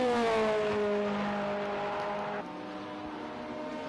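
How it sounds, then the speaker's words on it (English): A Nissan-engined LMP2 race car in Project Cars 2 holds a steady high-revving engine note, then drops to a lower gear pitch partway through. It plays alone without talk. "that Oracle sounds really nice in that Nissan engine"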